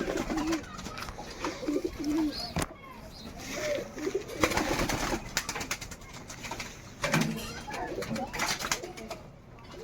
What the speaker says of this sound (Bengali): অনেক দূরে উঠছে তিনটে কবুতর